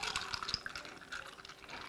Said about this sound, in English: Pour that tea on there